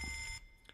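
Loud, steady ringing of an annoying bell in the video game Fallout London, a continuous electric alarm tone that stops abruptly partway through, leaving faint background noise and a brief blip.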